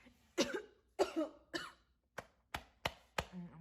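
A person coughs in a series of seven sharp, separate bursts, the first three fuller and throatier, the later ones shorter and drier, close and fairly quiet with pauses between.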